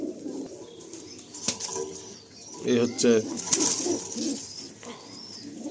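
Caged pigeons for sale coo in low, rolling phrases while wings flap in a few sharp bursts near the middle; someone speaks briefly over them.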